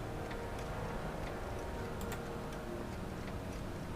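A clock ticks steadily in the Back to the Future adventure game, soft regular ticks about twice a second over a constant low ambient hum, with no one speaking.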